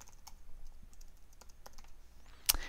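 Credentials typed on a computer keyboard while setting up a Mountain Lion Server calendar: quiet, irregular key taps spread across the stretch, ending in one sharper click.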